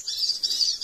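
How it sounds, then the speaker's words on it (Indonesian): A male wild songbird of an expensive, protected species chirps in a steady, bright, high twitter that runs through the whole short moment, close and fairly clear, with a soft low thump near the end. "Burung ini sih mahal, Mas Bre, tapi sayang dilindungi"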